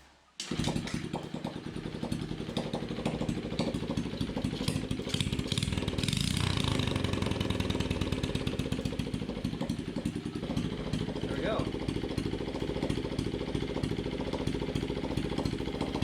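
A small Honda CRF50 dirt bike engine, running without its exhaust fitted after repair, runs steadily and loudly, a rough, buzzing putter that barely changes, with a brief spoken remark near the start.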